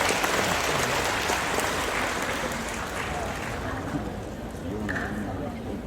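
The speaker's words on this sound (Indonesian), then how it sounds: "tepuk tangan dulu untuk adik-adik mahasiswa" A crowd of university students and guests applauds at a public lecture in a dense, sustained clatter of clapping that continues throughout at an even level.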